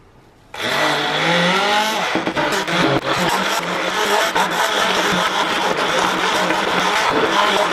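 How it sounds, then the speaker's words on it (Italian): A blender purees pumpkin and potatoes with a sweetener for a sweet pumpkin-and-potato tart, starting abruptly after a short quiet moment and then whirring loudly and steadily without break. "frulliamo il tutto"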